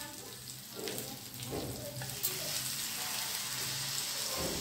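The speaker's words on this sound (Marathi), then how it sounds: "एका साइडनं फिश फ्राय झालेले आहेत का आपण चेक करूया" Fish frying in a pan gives off a steady, dense sizzle that holds for the whole stretch, fairly close and even in loudness, with no voices over it.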